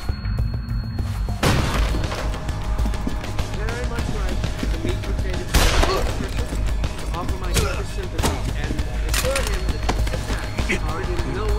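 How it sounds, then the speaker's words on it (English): Dense, noisy action in the video game Deus Ex: Human Revolution with several loud broadband bursts of gunshots around the middle and later, over a constant low rumble and music. "Gunshots!"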